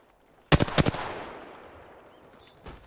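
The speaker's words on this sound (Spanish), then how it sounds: "Los enemigos me están disparando." Enemy gunfire in the battle royale game Apex Legends: a tight burst of several rapid, loud shots with a long decaying echo, then one fainter shot near the end.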